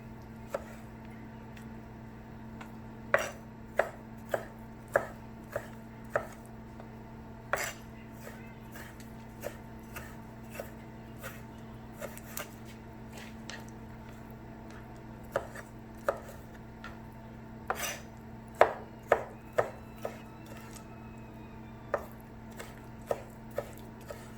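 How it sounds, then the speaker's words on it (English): Guavas being chopped on a board for guava duff, a series of sharp, close knife knocks coming in irregular bursts with short pauses between them, over a low steady hum. "Alright, cut them up like this."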